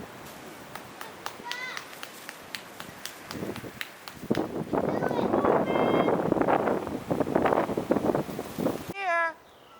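A cat meows outdoors in a New York City neighborhood during a rescue attempt, with several short, high meows scattered through wind noise, rustling and people talking nearby, and one clearer meow near the end.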